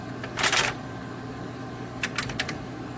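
A remanufactured solid-ink cube clicks into a Xerox ColorQube 8570/8580 printer: a brief rattling burst first, then a quick series of small sharp plastic clicks close by, over steady background hiss.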